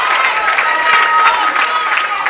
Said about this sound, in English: The crowd is still celebrating and he's almost set to go